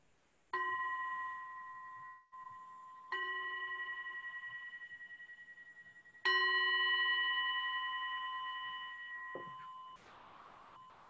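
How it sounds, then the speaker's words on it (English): A singing bowl is struck three times, each chime ringing out clearly with a long, slowly decaying tone before the next strike, alone in a quiet room. "So I'm going to begin with just chiming the bowl first."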